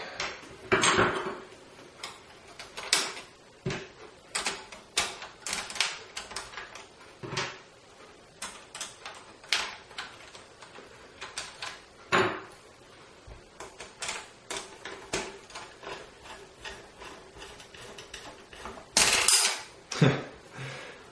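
Small screws are driven into a PlayStation 3 console under repair for the yellow light of death, giving close, irregular clicks, ticks and light clatters of metal parts that recur throughout, with occasional louder knocks.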